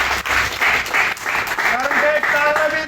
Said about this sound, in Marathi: त्यांच्यासाठी टाळ्या होत्या